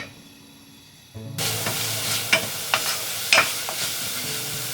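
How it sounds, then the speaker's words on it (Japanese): Chopped onion and butter sizzle in a pot once they hit the heat, a loud steady frying hiss broken by several sharp scraping stirs, close up with no talking. "お鍋にみじん切りにした玉ねぎを入れたらバターを入れて炒めていきます。"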